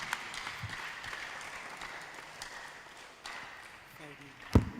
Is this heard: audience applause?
yes